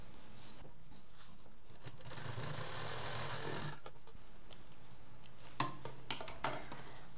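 A sewing machine stitches fabric for a zippered pencil pouch, a soft steady mechanical whirr running for a few seconds, followed by quiet handling and a few small clicks and taps.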